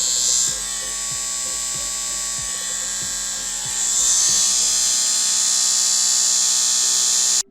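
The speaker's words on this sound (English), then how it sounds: "I then found this video clip of a PlayStation 5 that apparently identifies as a beard trimmer" A PlayStation 5 console gives off a harsh electric buzz like a beard trimmer, a constant high whine with rhythmic ticking pulses underneath, growing louder partway through and cutting off abruptly at the end.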